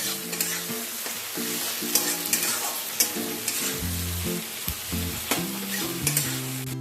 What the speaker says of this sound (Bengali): পেঁয়াজটাকে হালকা করে একটু ভেজে নেব।